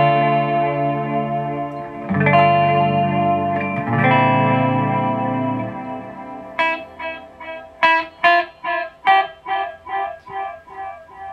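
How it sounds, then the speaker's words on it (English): Sustained electric guitar chords through a delay pedal are smeared with echoing repeats, then a plucked phrase trails off in a regular pulse of fading, repeating echoes. "That's actually the delay signal I use for swells."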